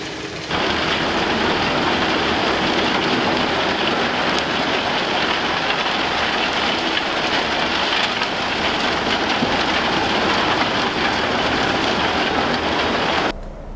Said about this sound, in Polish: gdzie pracował już nasz główny bohater, czyli rębak WIST